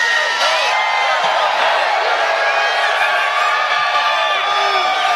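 A large, dense crowd at a Bernie Sanders rally in Brooklyn cheers, whoops and yells continuously, loud and close, a sustained roar throughout.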